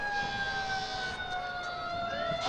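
Police motorcycle sirens blare at a Fourth of July parade in Wakefield, steady high wailing tones sliding slowly in pitch, fairly distant and sustained over faint crowd ambience.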